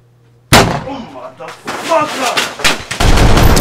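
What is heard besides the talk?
gunshots in an action movie shootout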